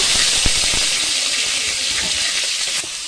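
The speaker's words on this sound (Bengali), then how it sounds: "কড়াইতে তেল দিয়ে দিচ্ছি। এবার পনিরটা ভেজে নেব" Paneer frying in hot oil in a wok gives a loud, steady broadband hiss close up, with a few soft knocks and no talking.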